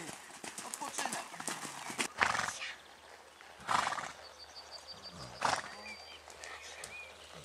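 Horse during riding training, with rhythmic hoof clip-clops and several breathy snorts or whinny-like bursts, moderately close, under a trainer's spoken instructions.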